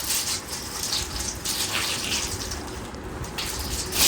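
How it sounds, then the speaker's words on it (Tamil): Water runs steadily from a tap in a home bathroom, a continuous close hiss and gush lasting several seconds with no voices. "இது தண்ணி வரதுதான்."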